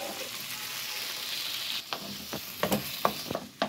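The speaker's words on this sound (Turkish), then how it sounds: "Evde doğramış olduğum küp küp sosislerimi içine aktarıyorum." Cubed sausages sizzle steadily in a frying pan, then a few sharp clinks and scrapes of a utensil stirring the pan break through near the end.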